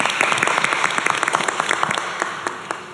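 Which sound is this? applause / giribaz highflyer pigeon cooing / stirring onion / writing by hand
applause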